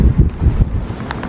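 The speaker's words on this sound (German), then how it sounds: "Man sieht es oder man hört es auch vielleicht. Es ist extrem windig." Strong, gusty wind buffets the microphone outdoors on a zander fishing trip, a loud, low rumbling roar that pulses unevenly throughout without any talk.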